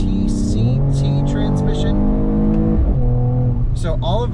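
A 2021 Mercedes E53 AMG Cabriolet engine pulls through the gears on Los Angeles hill roads, rising revs with a shift dip midway and another climb, loud and close, with someone talking over it throughout.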